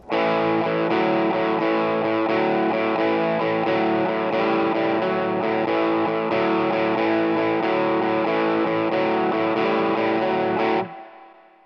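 Distorted electric guitar plays a short riff twice back to back, thick and sustained with steady chord hits, loud and close, then stops abruptly.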